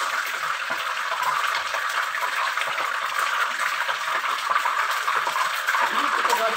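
Chicken sizzles in hot oil in a pan while being fried for a Malaysian ayam sambal petai, giving a steady, dense crackle that runs evenly throughout at close range.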